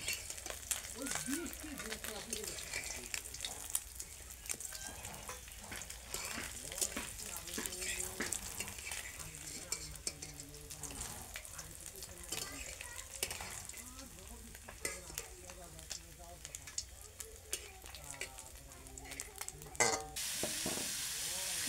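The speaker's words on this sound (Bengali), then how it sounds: "মাছগুলো আমার ভাজা হয়ে গেছে, এখন তুলে নেব।" Fish frying in hot oil gives a steady, close sizzle with occasional stirring and scraping throughout, and a voice is faintly present in the background.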